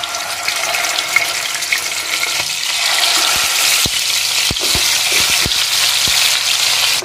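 Chicken pieces for pepper chicken hit hot oil in a pan, setting off a loud, steady, hissing sizzle with scattered sharp pops and crackles that grow busier after a few seconds.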